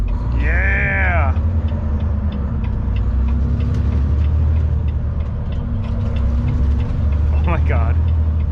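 A Euro-style truck's diesel engine rumbles low and steady as it pulls away, with squealing, bleat-like tones over it near the start and again near the end and voices talking underneath.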